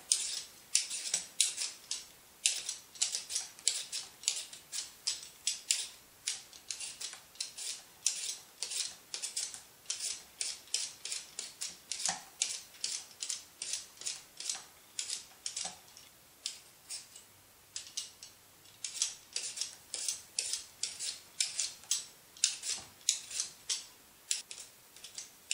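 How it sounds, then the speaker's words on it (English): A peeler scrapes across potatoes being peeled for mashed potatoes, a rapid run of crisp, close scratchy strokes in quick bursts with short pauses between them. "Let's start peeling and see how yellow that is."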